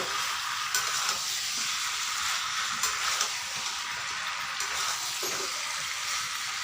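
Chicken feet fry in a pan with a continuous, close hiss and crackle, and scraping and stirring strokes recur throughout without any speech.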